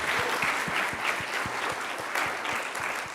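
Audience applause for a startup pitch on a conference stage, a sustained wash of many hands clapping evenly throughout, with a faint rhythmic low thump beneath.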